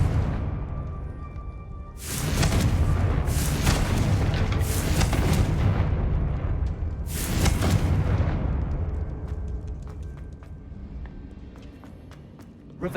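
Confringo spells go off in Hogwarts Legacy as a series of loud, booming explosions, about four big blasts in irregular succession with rumbling tails that fade into quieter game ambience.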